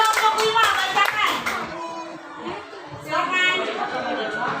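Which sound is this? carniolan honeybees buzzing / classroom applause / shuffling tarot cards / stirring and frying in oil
classroom applause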